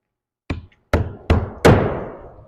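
Four sharp hammer blows drive nails into a CertainTeed roofing shingle, spaced about half a second apart and growing louder, the last ringing out longest.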